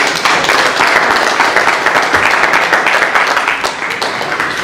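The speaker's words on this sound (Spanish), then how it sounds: "voy a pedirles calurosos aplausos" Warm audience applause at a school presentation during a regional student gathering, a steady dense patter of many hands clapping at close range throughout, without a break.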